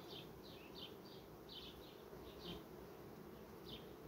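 Honeybees work calmly on a hive frame, giving a low, steady hum with scattered soft buzzing passes close by.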